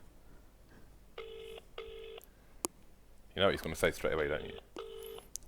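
A phone rings twice in electronic bursts, followed by a busy-signal tone, with someone talking over the line between rings.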